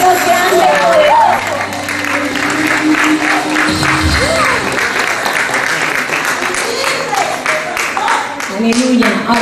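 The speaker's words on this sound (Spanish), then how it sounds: "Un aplauso para ese Dios grande y poderoso." Loud, sustained applause from a congregation during a Sunday church service, dense clapping mixed with crowd voices and cheers, with a low musical tone underneath.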